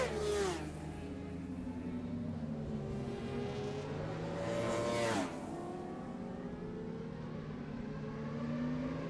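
Superbike motorcycles racing past the tower during a Masters Superbike Championship road race: loud, high-revving engines whine and sweep in pitch as several machines pass one after another at a distance, with no talking.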